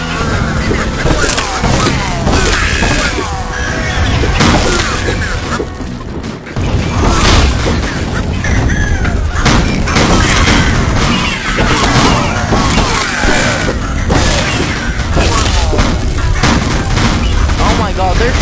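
Gunfire in a Rec Room game rattles in dense, loud bursts of shots and crashing impacts, nearly continuous and close, while people talk over it.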